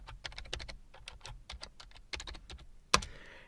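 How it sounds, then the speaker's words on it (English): Fast, uneven keystrokes on a computer keyboard, a quick run of clicks ending in a louder single key strike, close and clear with no talking. "simply typing dash error"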